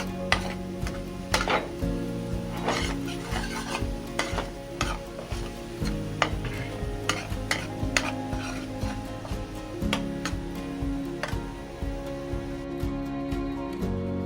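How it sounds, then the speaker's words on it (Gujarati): Onions sautéing in a pan for fish curry gravy sizzle steadily while a metal spoon scrapes and clinks against the pan in repeated, fairly regular strokes, close and clear. "થોડીક લાલ થાય ત્યાં સુધી આપણે સાંતળીશું એને."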